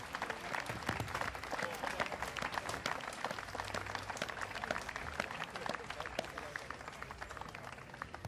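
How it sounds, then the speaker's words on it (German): Scattered outdoor applause from a festival crowd at the Hussitenfest in Bernau, thinner and uneven clapping with some crowd murmur and voices mixed in. "für euch einen Applaus"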